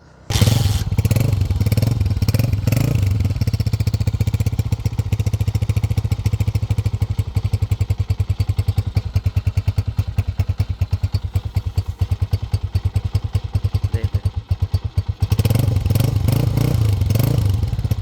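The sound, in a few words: Honda 125 motorcycle engine sound test after restoration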